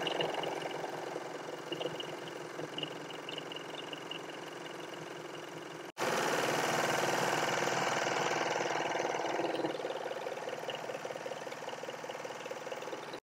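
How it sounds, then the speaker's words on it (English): A serger overlocks the edges of fabric cut from upcycled jeans, a steady close mechanical whir that pauses briefly midway and then resumes at a louder, denser pace. "I am actually gonna go first, serge both sides of this"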